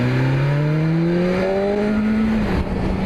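A BMW S1000RR sport motorcycle accelerating out of a corner, its engine note climbing smoothly and loudly in pitch before a brief dip at a gear change near the end.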